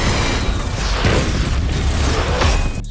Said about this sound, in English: she just deflected a firecracker into a helicopter and blew it up